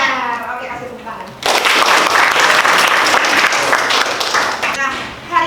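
Students in an Indonesian-language classroom break into applause after a teacher's brief speech, a sudden burst of loud, close clapping from many hands that holds steady and then begins to fade.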